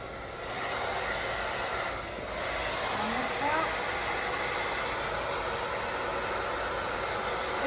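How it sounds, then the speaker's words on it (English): A blow dryer runs on high speed while drying hair, a steady close airy roar that holds nearly constant with a slight dip early on. "use a high speed on your blow dryer"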